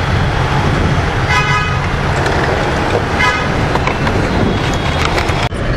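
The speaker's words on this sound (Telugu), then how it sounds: "ఏంది మావా ఈ ట్రాఫిక్లో ఇరుక్కున్నా" Jammed road traffic in Madhapur, Hyderabad: a loud, steady rumble of engines, with two clear horn toots sounding above it.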